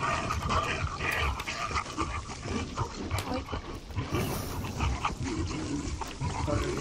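Dog barking and growling in the survival video game The Forest, a dense, loud stretch of snarls and barks over a busy game soundscape that runs the whole time.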